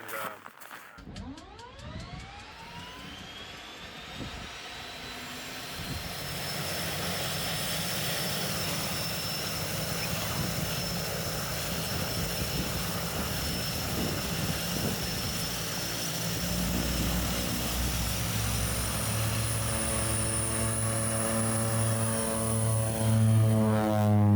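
A propeller airplane engine on a polar ice mission flight roars steadily and loud for the whole stretch, its droning pitch slowly rising as it winds up.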